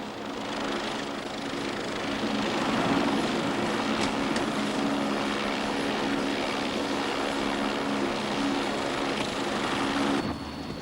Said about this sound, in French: L'hélicoptère vient juste d'atterrir